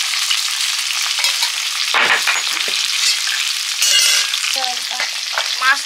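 Fish fresh from a pond fries in oil in a pan, a loud, close, continuous sizzle and crackle with bursts of spitting and a few stirring scrapes, no voices.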